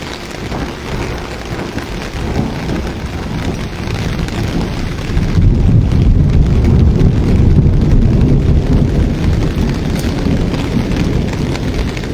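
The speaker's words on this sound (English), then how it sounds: "Nice rolling thunder there" Rolling thunder from a summer storm swells into a deep, continuous outdoor rumble, growing louder midway and sustaining with a rain-like hiss over its low roar.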